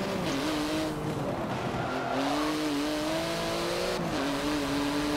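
Porsche engine in Forza Motorsport 7, droning steadily close up with the pitch rising and falling as it shifts gears, a light tire squeal mixed in, no talking.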